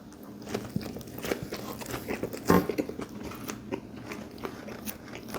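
Someone bites into and chews a McDonald's McRib sandwich with pickles, one sharp crunchy bite midway among soft, quiet chewing and rustling sounds up close.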